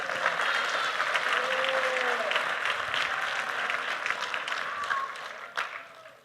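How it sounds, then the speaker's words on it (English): A crowd at a vegan food festival talk breaks into sustained applause, a dense even wash of clapping with faint voices and a cheer mixed in, tapering off toward the end. "But yeah, we can applaud that too."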